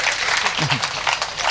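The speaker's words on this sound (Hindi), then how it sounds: "तालियां बजाइए" Applause from the audience at a Hindi kavi sammelan poetry gathering, a dense wash of clapping from the crowd with a brief voice heard partway through.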